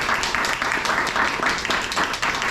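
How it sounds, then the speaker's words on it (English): Conference audience at the Appalachian Studies Association gathering gives a round of applause, a continuous mid-level patter of many hands clapping throughout the short span. "Can we give one more round of applause for our"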